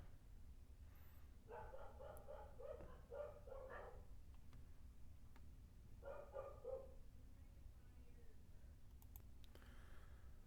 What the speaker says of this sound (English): So you probably all heard my little dogs.